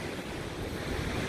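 Big ocean waves roll and break on the windy shore at Maspalomas, Gran Canaria, a continuous broadband roar of surf mixed with gusting wind buffeting the microphone.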